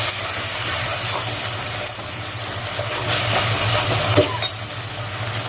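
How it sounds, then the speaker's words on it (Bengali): A pan of fish curry with turmeric and salt sizzles steadily as the spices are sautéed, a continuous close hiss with a low hum underneath and an occasional faint scrape of stirring. "এটা একটু ভালো করে কষিয়ে নেবো আমি"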